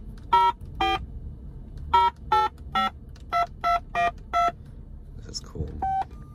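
A vintage Mercedes-Benz S600 W140 car phone gives out a series of sharp dialing tones, nine spaced beeps in uneven groups followed by a couple of fainter tones, with quiet voices in the background.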